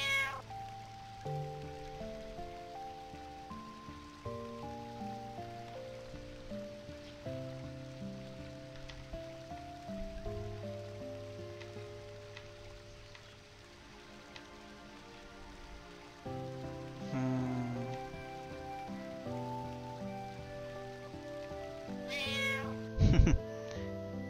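A cat meows in the Final Fantasy IX video game, heard faintly among soft game background music with sustained tones, with a brief louder sound near the end.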